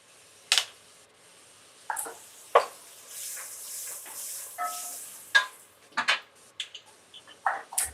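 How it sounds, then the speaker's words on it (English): Mirepoix vegetables sizzling in a pan while being stirred for a vegan corn chowder, soft frying hiss punctuated by sharp scrapes and clinks of the utensil against the pan. "now you want to turn your mirepoix down to medium. Yeah. Stir your vegetables around."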